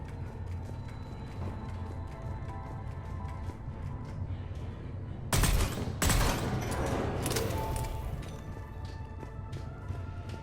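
A short, loud burst of rapid gunfire rings out in Mass Effect 3, two close volleys separated by a brief pause, set against a steady ambient game background.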